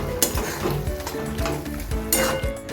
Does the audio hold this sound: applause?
no